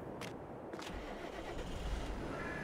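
A tractor engine starts up in Farming Simulator 22, with a couple of short cranking bursts followed by a steady mid-pitched engine rumble that settles into a close, continuous idle, with no talking.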